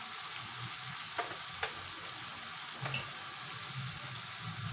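Spices sizzling and frying in a hot pan of oil for a Lahori chicken cholay curry, a steady close hiss with a few brief clinks of stirring.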